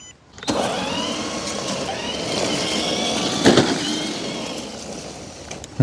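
A Range Rover Classic in Camel Trophy trim drives in second gear, its steady engine and drivetrain noise holding throughout, with a brief louder knock or bump partway through and no talk.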